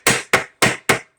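A light hammer taps a Toyota transfer case four times at an even pace, each strike a sharp, ringing metallic knock that dies away quickly, loud and close.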